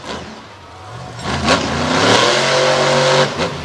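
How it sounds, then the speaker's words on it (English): Big Ford race car engine revs hard through open headers on a dirt track at Brownstown, Indiana, its loud, raw note climbing and holding steady close by. "I just love the sound of this engine through those open headers"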